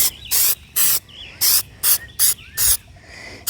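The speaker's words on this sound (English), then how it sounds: "put on, you know, just like spray painting, put on a couple of light coats" Six short hissing bursts of an aerosol spray can, applying light coats to rubber boots, evenly spaced, each lasting about a third of a second, close and loud with quiet gaps between.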